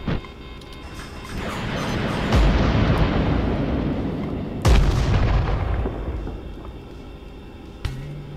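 A control tower explodes in the combat flight game Nuclear Option with a loud, sustained roaring blast that swells, then a second sharp boom about halfway through, followed by a fading rumble and one late thud.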